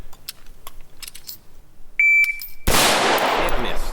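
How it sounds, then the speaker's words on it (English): A shot timer beeps, then a PSA M4 carbine AR-15 fires a loud, continuous rapid-fire magazine dump on a shooting range, preceded by a few sharper reports. "and then I'm just gonna mag dump the rest"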